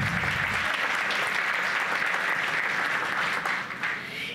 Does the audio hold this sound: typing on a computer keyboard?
no